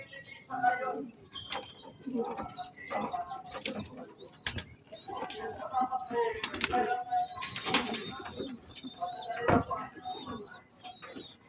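Birds call and chirp in a busy mix, with soft cooing from a racing pigeon arriving home among bright bird notes and flutters; a voice is heard faintly in the background.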